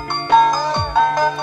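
An Android phone plays a ringtone preview, a bright electronic melody of short repeated tonal notes in a steady rhythm, clear and fairly loud with no talk over it.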